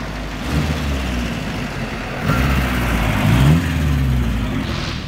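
A 1965 Mini Cooper S engine hums and revs as it drives, the note rising and falling with acceleration, close and steady.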